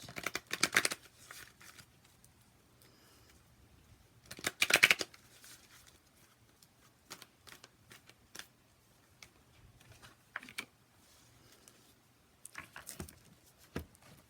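Tarot cards being shuffled and pulled for a reading, giving two short bursts of riffling near the start and middle, then scattered light card taps and slides, fairly close and alone.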